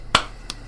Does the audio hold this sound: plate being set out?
no